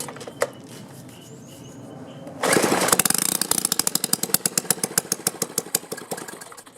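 A Stihl 4-Mix engine with its muffler removed sputters after a pull start, then fires into a loud, raw, rapid popping run that is close and harsh, with uneven bursts toward the end.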